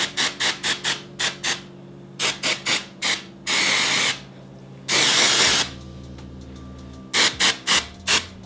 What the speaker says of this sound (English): So I kind of just spray it